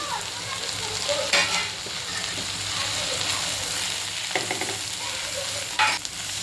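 Masala spices (turmeric, Malvani masala, garam masala, Kashmiri chilli, coriander powder, onion-garlic masala) sizzle steadily with prawns in a hot pan, close and continuous, with a few stirring scrapes.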